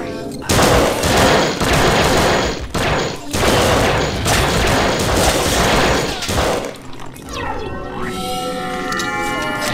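Loud rapid bursts from the MP rifle in System Shock 2, sustained automatic fire broken by short pauses, then dropping away at the end into lingering metallic ringing and game sounds.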